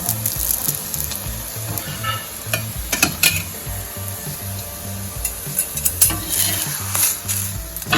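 Masala rotlo, a Kathiawadi-style millet flatbread, sizzles and fries in oil on a pan, with constant crackling and occasional scraping stirs or utensil clinks close by.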